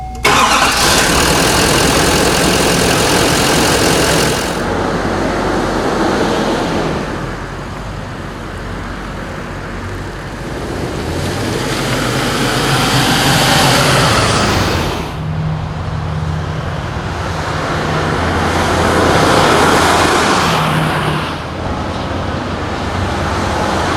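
A 2013-2014 Chevy Silverado with a 6.6L LML Duramax diesel and an aftermarket intake cranks and starts, then idles and pulls away, its loud diesel clatter and drone rising and falling with throttle as road noise builds.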